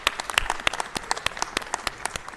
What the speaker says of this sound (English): let's give Tyree a round of applause